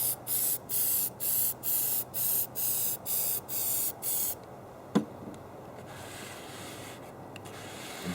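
Lubricant sprayed from an aerosol can onto staggered rifle cartridge cases, heard as a run of about eight short, even hissing bursts, followed by quieter handling noise and a single sharp click.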